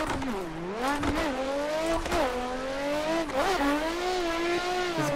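A Nissan S15 drift car from the Yashio Factory, on a no-handbrake initiation, holds a loud, continuous engine howl that rises and falls with revs, along with rough tire noise, close by and with no talk.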